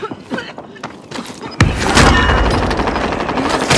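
Video game gunfire, a dense burst of rapid shots and a heavy thump that sharply raises the loudness and holds a loud, continuous crackle of fire, with a player talking briefly over it.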